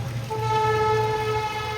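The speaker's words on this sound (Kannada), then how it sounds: "ಟ್ರೈನ್ ನೋಡ್ರಿ ಎಷ್ಟು ಫಾಸ್ಟ್ ಐತೆ" A train's horn sounds as a steady two-tone blast over a low, continuous rumble of rolling wagons, fairly close.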